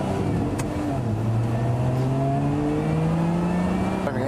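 A Lotus Emira sports car's engine drones steadily as it accelerates, the pitch climbing smoothly through a long pull before a brief shift near the end, heard from inside the car with no talk.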